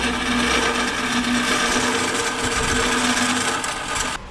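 A hook nose scraper rasps steadily against the inside top edge of a large oak bowl spinning on a wood lathe, with a continuous close scraping hiss over the motor's hum and a brief drop at the very end.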